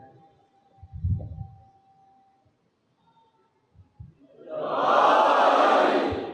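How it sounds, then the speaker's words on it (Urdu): Slogans are chanted by a crowd outside an imambargah during an 8th Muharram gathering. After a quiet stretch with a faint low voice, a loud, dense mass of chanting voices swells up and holds to the end. "جب باہر سے نعرے کی آواز آتی ہے"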